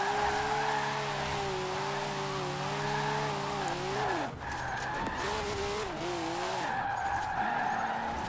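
Tires squeal and skid continuously as a rear-wheel-drive car drifts in the Forza Horizon 4 racing game, with the engine droning loudly underneath and the pitch sliding up and down through the slide.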